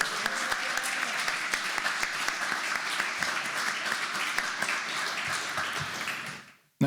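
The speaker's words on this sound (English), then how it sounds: "So that deserves a hand clap" Sustained applause from an audience at a military retirement ceremony, dense and steady with a few sharper claps standing out, lasting several seconds before fading out.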